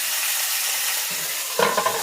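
Meat fries in beef tallow in a hot skillet, producing a close, continuous crackling sizzle with a few louder spits and stirring clinks toward the end.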